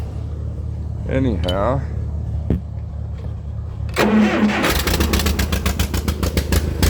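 A tractor engine cranks over and starts on a cold morning, then settles into a loud, steady idle with a rapid knocking pulse; people talk briefly before it catches.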